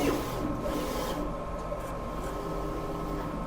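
A DTF transfer printer runs with a steady, close mechanical hum and soft rubbing, continuous throughout and with no one talking.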